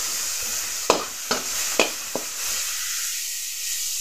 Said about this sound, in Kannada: ಟೊಮೆಟೊನು ಚೂರು ಫ್ರೈ ಆಯ್ಲಿ.